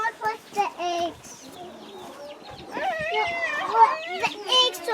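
Chickens on a small island farm cluck and squawk close by in irregular bursts, mixed with people talking.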